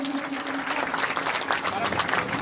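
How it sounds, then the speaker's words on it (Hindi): A crowd applauds steadily at a Guru Purnima festival at Gayatri Shaktipeeth, Lakapa, Salumber, Rajasthan, dense clapping filling the whole moment, with a voice faintly mixed in. "जोरदार तालियों से अभिनंदन।"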